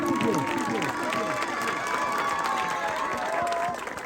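Crowd applause at an outdoor cricket tournament in Kohistan, a steady wash of clapping and cheering that fills the whole stretch, with voices mixed in and a whistle-like tone drifting through before it thins near the end.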